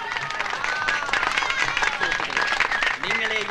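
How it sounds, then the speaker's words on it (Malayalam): An audience claps and cheers at a street bicycle stunt show, a steady wash of applause with a voice talking over it. "ഇതെല്ലാം ചേർന്ന് കൈയടിച്ച്"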